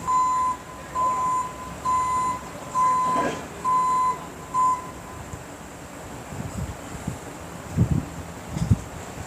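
A truck's reversing alarm beeps in a steady series of about six evenly spaced tones while the stuck truck is pulled out at a park picnic area, followed by outdoor rustling and a few knocks.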